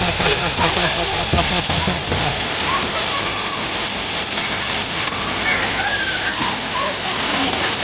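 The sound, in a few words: water flowing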